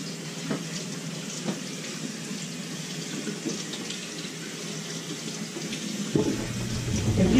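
Tap water running over sweet potatoes as they are washed of dirt and mud in a sink, a steady close splashing with a few small knocks, then a louder gush in the final second.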